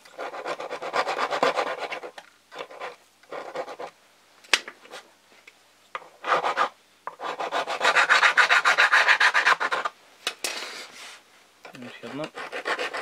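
A small hand saw cuts into wood in bursts of rapid rasping back-and-forth strokes, close and fairly loud. The bursts are separated by pauses, with an occasional sharp knock and some faint breathing.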